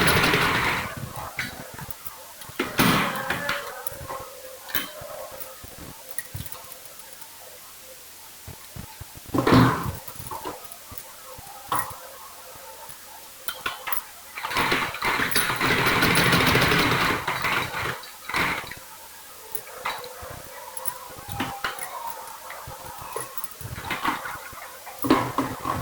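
A sewing machine stitching a baby kurta pajama whirs in several short runs of varying length, broken by handling noises and quieter pauses, close and moderately loud throughout.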